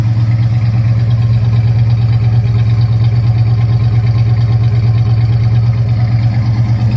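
A 1970 Plymouth Duster 340 with true dual exhaust idles steadily and close by, a loud, even low rumble with a constant pulse throughout and no voices.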